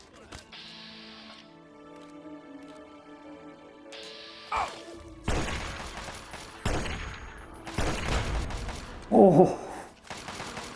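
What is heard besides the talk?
explosion in video game Fallout 3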